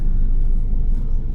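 Car traffic on a busy coastal road where an accident has slowed vehicles, heard as a steady, deep low rumble of engines and tires from inside a vehicle, continuous and loud with no voices.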